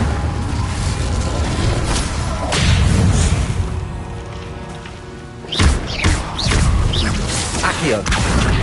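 The Incendio fire spell cast in the Hogwarts Legacy video game: a loud rushing burst of crackling, rain-like hiss with whooshes and heavy thuds, then another bright flare and booms.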